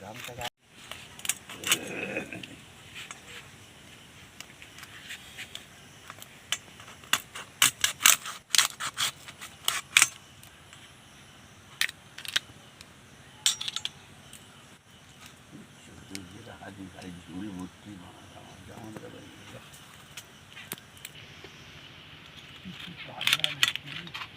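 Sea crabs, some full of eggs, are cut up in a kitchen for a curry with vegetable stalks, making scattered snipping clicks, light metallic clatters and scraping, mostly faint, under a voice talking.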